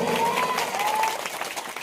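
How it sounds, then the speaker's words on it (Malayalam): Audience at a political rally in Nilambur clapping together in a dense, steady burst of applause, close and sustained for the whole moment. "ഒന്ന് ഉറപ്പിച്ച് കൈയടിച്ച് പാസ്സാക്കി തരുമോ"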